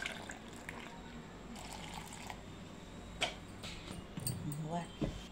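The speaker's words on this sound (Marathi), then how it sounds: "टाक पाणी." Water is poured onto grated coconut to make coconut milk. The liquid trickles faintly among kitchen clatter and background voices.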